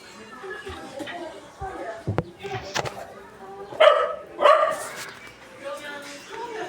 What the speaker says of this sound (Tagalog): Pakain na naman ng alagang aso.